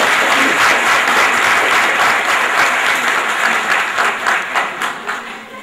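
An audience at a charitable trust event applauds to welcome small children from Datewadi village, loud continuous clapping that gradually thins and fades toward the end.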